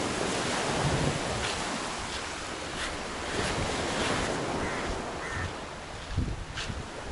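Surf breaks steadily on a small pebbly beach at Miami Bay, Penang, as the tide comes in, a continuous wash of waves with light wind noise and a few louder splashes near the end.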